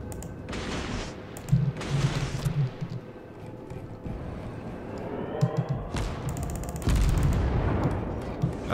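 A Kuma cruiser firing its guns in the video game World of Warships, several heavy booming salvos with rumbling tails spread across the span, loud and close.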